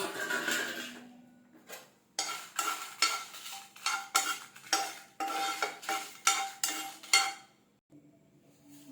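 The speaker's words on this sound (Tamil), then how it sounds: "அடுத்தது காஞ்ச மிளகா ஒரு பதினஞ்சு எடுத்து வச்சுருக்கேன் இதை நம்ம சேர்த்து வறுத்துக்கலாம்" About fifteen dried red chillies dry-roasted in a pan for idli podi rattle and scrape as a spoon tosses them, giving a run of rhythmic, close, fairly loud strokes between brief quieter pauses, with no talking.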